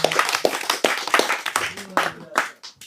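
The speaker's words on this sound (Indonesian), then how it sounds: "Tepuk tangan untuk umat Hindu." An audience at an Indonesian religious talk claps in a steady patter of sharp hand strikes. A voice speaks over the clapping throughout.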